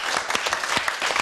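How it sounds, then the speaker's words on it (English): A studio audience claps in a brief, steady burst of applause on a television talk show, with no one speaking over it. "Round of applause for"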